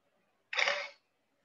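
A single camera shutter click plays as a crisp, bright half-second burst while a photo is taken, sitting alone against near silence.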